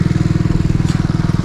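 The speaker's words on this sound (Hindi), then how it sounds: "बाइक का आवाज कैसा लगा?" A Kawasaki ZX-10R sport bike idles loud and close, its exhaust throbbing in a fast, steady pulse with a rough, lumpy burble.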